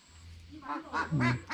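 Ducks kept on a rural Vietnamese homestead quack in a quick series of nasal calls, several overlapping in the last second. They are close and moderately loud over a low background hum.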